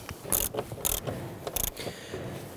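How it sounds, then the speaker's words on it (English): A ratchet snugs down seat bolts on a 2011-2017 Nissan Quest, giving close, quick bursts of clicking in short irregular strokes with brief pauses between them, and no talking. "Now that we have all 4 bolts started, we can go ahead and start to snug them down."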